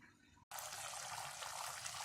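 Water poured into a chicken masala as it is ground in a home kitchen, a steady bright trickling pour that starts abruptly after a short gap and runs continuously and close.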